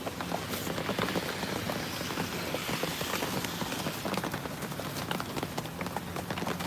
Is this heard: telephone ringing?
no